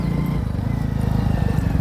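A mare stands close by, with steady rhythmic low thumps and snorting breaths from the animal, loud and continuous with no talk.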